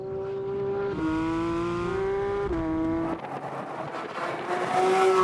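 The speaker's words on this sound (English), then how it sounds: "The best thing to say about this car is it's very noisy." A Porsche 911 GT3 (992 series) engine roars loudly and steadily on a race track, its pitch holding, dipping and climbing again as it shifts through gears, close by.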